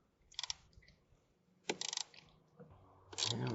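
Ratchet wrench loosening a 10 mm negative battery cable nut on a Mercedes C280, three short bursts of quick clicking close up with quiet pauses between.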